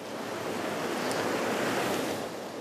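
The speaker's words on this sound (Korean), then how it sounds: "이번엔 빙하 사이로 빙하물이 흐르고 있습니다" Glacial meltwater rushes between glaciers on the K2 trek, a steady, loud broadband roar of flowing water with a windy edge, continuous throughout with no voices.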